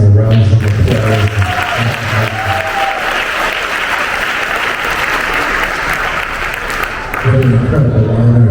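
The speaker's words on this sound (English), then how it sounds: "Would you give our psalmist a round of applause?" Loud applause from a large NAACP audience for a psalmist, a dense roar of clapping that swells for several seconds, with a speaking voice heard at the start and again as it fades.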